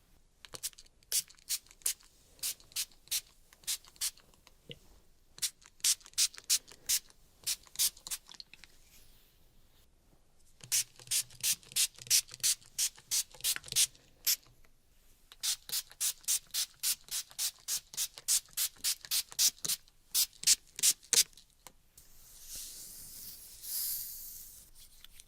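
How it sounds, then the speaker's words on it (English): Rapid bursts of a hand-pumped spray bottle misting water onto hair during a scalp oil treatment, dozens of crisp sprays in quick rhythmic runs separated by short pauses, close and alone, ending in a longer hiss. "I'm going to use this spray bottle to wet your hair slightly to help integrate the oil onto your scalp and hair."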